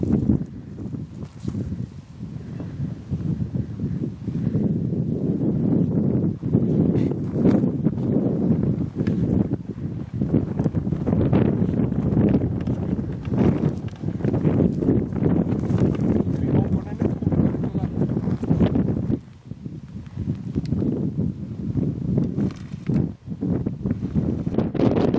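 Strong wind blowing outdoors in Finland. It buffets the microphone with a constant, loud, rumbling roar for the whole stretch while people talk.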